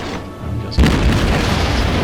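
A single heavy boom of naval guns from an American cruiser firing in World of Warships, landing suddenly after a quiet moment and rolling on as a loud, sustained rumble.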